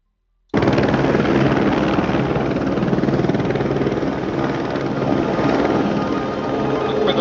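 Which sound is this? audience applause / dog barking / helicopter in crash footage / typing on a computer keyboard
helicopter in crash footage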